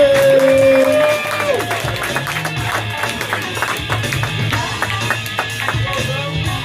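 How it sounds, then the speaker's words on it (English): A comedy club audience claps and cheers for a touring comedian, a steady crowd wash of many hands with whoops and voices running through it, following a brief sustained tone at the start. "Ladies and gentlemen, please start clapping now."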